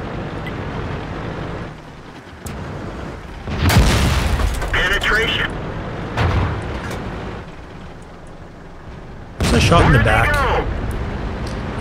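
Tank cannon hits land on a tank from behind during a World of Tanks match, heard as a few loud booming impacts, with a heavy blast near the start and another near the end over steady engine rumble and game noise.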